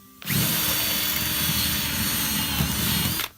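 An air hammer removing rivets from a bus roars continuously for about three seconds at close range, starting and stopping abruptly, with a harsh rattling buzz.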